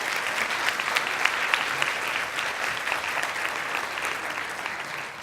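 An audience at a closing session of a conference claps warmly and continuously, a dense even wash of applause with no voices over it.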